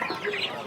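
Chickens at the Qumtepa poultry market give short, soft clucks against a dense wash of market noise, brief and mid-distance.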